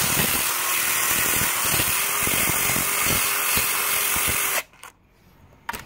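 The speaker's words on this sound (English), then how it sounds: "And you just sand it, and I don't know, you get it smooth and you get rid of the stock texture that you have in the 799 intake ports" Power tool sanding the intake ports of an LS 799 cylinder head, a loud continuous high whine and grinding that stops abruptly near the end, leaving quiet shop noise.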